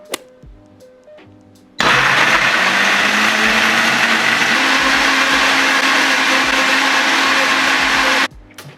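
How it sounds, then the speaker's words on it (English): A blender whirs loudly and steadily for several seconds blending pancake batter, starting abruptly after a quiet moment and stopping just as suddenly. "And now that's all in my blender, I'm going to blend it now."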